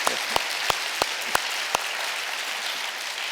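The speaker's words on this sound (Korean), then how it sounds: "힘찬 박수로 하나님 앞에 감사하는 시간을 갖도록 하겠습니다" A church congregation at Sunday worship claps in thanks, six evenly spaced sharp claps over a broad wash of applause that then carries on steadily.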